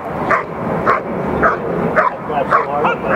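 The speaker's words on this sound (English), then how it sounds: "Again, we see very intense, repetitive barking, which is of a very high quality." A protection dog at a Schutzhund (IPO) world championship trial barks intensely and repetitively in a regular rhythm, about six sharp barks, loud and close over crowd or field ambience.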